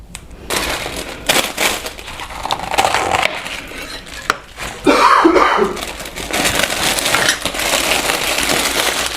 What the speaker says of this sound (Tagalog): Yan, inuubo pa siya.